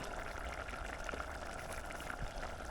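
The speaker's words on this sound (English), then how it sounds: "we're gonna lower it to a simmer and then pop the lid on it and let it cook" Cream of mushroom barley soup with oyster mushrooms simmers in a pot over a butane burner, a faint, steady bubbling with scattered soft pops throughout.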